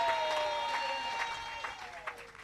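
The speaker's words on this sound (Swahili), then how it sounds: "Wapeni makofi wachungaji wetu wote" Applause from a church congregation at the launch of a church college in Temeke, broadband clapping filling the room steadily while a speaker's voice carries over it.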